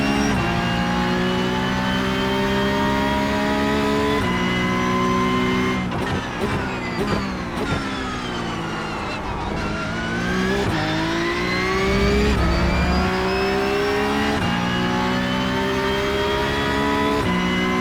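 Race cars roaring through the final lap of a racing video game, with layered engine tones rising and falling as cars rev, shift and pass, plus a brief tire squeal; loud and continuous throughout.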